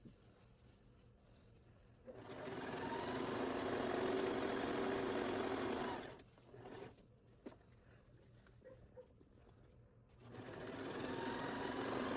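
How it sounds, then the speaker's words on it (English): A sewing machine stitches fabric for an ice bandana in a steady, whirring run of about four seconds, pauses briefly with a few faint clicks, then starts stitching again. "we are going to take it to the sewing machine and sew from this corner to that corner"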